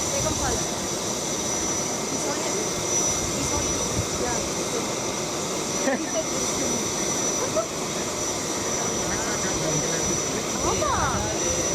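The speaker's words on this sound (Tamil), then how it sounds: "விமானம் புறப்படும் காட்சிகளை நாம் தற்போது பார்த்துக் கொண்டிருக்கிறோம்." Airplane taking off for Delhi, a loud continuous jet-engine roar that holds steady throughout at close range.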